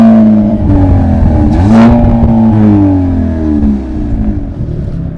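A 2022 Hyundai Elantra N engine revs up and down in normal drive mode with rising and falling whining tones, loud and close, with no talking.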